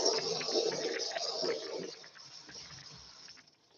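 Water pours from a hot tap in a fish-room setting, a steady loud gushing stream that fades over the last second or so.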